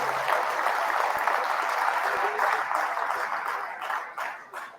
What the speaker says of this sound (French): vous pouvez applaudir Félix Guattari